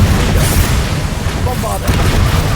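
A roaring burst of fire from the Incendio spell in Hogwarts Legacy fills the clip with loud, continuous, dense rumbling, and a voice is heard over it.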